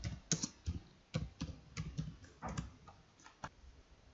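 Keystrokes on a computer keyboard typing a short word into an Excel spreadsheet, a quick irregular run of close, crisp clicks with brief pauses between bursts, no voices.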